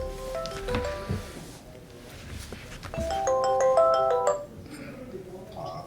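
A phone ringtone plays a repeating melodic tone pattern, loud and close, with some background noise and brief faint voices between rings.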